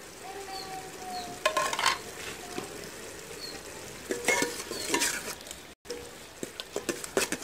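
Spices such as kasuri methi, cinnamon, cumin, cloves, dried pomegranate seeds and a chicken stock cube frying and being stirred in a pan for masoor dal pulao, a steady sizzle broken by scraping, clattering stirs.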